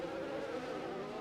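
Race car engine in a racing video game on the Singapore street circuit, a steady buzzing drone held at constant throttle throughout, with no talk.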